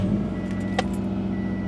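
A car with a manual transmission and short-throw shifter drives on a test run after a cross member bushing swap, giving a steady low engine and road drone with a brief faint jingle midway.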